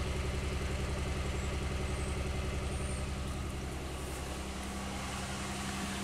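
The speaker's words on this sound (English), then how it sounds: "But it is. It's misfiring." A Pontiac Aztek engine idles roughly with a misfire, a close, steady low rumble with a pulsing, uneven beat and no voices.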